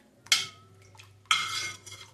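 A spoon or ladle scrapes and clinks against a metal pot while stirring mixed leafy vegetable soup, two distinct close stirring strokes with brief metallic rattles between them.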